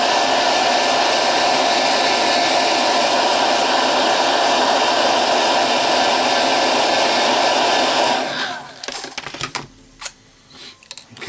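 A hair dryer blows steadily and loudly at close range to dry a thin coat of paint on a miniature figure, running alone for about eight seconds before switching off into a few faint handling clicks.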